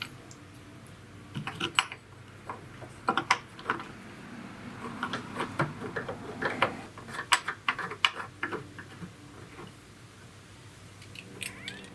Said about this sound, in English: Screw in the key cylinder.